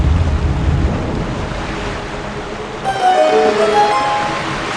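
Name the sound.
water rushing in after swinging the door, from the video game Twilight Princess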